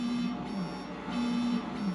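A cartoon alarm system going off in a Ninjago episode, a repeating electronic buzzing tone pulsing in steady on-off bursts, loud and alone.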